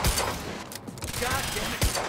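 Gunfire in the video game Quantum Break, a rapid burst of shots and crackling fire under game noise, with a few sharp reports standing out near the start and end, voices faintly mixed in.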